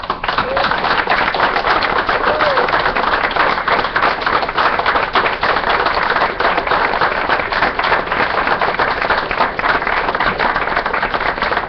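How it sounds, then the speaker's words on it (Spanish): Loud, sustained applause from a crowd, dense steady clapping that fills the whole stretch without pause. "un aplauso eterno"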